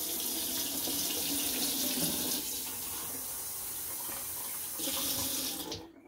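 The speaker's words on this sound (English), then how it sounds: "let's run regular tap water" Regular city tap water running from a faucet into a sink, a steady hissing splash close by that shifts in tone as the flow changes, then cuts off at the end.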